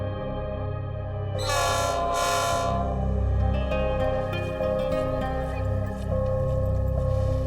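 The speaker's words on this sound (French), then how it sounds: "La locomotive diesel et ses wagons parfois défraîchis grimpent jusqu'à une altitude de 2500 mètres" Diesel locomotive hauling worn wagons up a Mexican mountain railway, with a steady engine drone and rail rumble throughout and two loud horn blasts early on.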